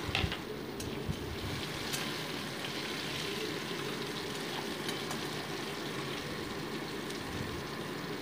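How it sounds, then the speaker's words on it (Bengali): Whole garam masala and cumin seeds frying lightly in hot oil give a steady, soft sizzle that carries on evenly throughout, with no talking. "আর অ্যাড করে দিচ্ছি গোটা জিরে দিয়ে মশলাটা একটু হালকা ভেজে নিচ্ছি"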